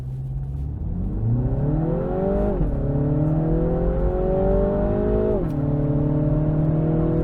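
A 2024 Mini Cooper S Hardtop accelerates hard in a 0-60 launch test, engine climbing steadily in pitch through two gear shifts with brief drops, loud and close inside the car, no talk.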